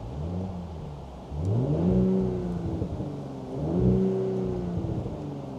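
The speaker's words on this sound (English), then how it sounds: "let's hear the exhaust one time" An Audi S5's exhaust blips twice from idle, each rev rising sharply into a throaty growl and then settling back, heard up close with a faint hiss underneath.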